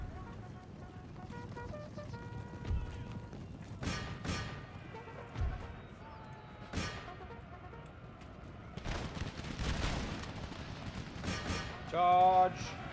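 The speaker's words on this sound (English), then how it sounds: "Shoot at the Hessians." Scattered musket volleys crack out in Empire Total War on an American campaign battlefield against Hessian troops, with sharp separate bursts spread over the span, moderately loud against a background of battle noise and occasional faint voices.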